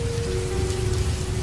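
Steady rain pours at night, a dense, even hiss of drops on surfaces with no voices, filling the whole short stretch without letting up.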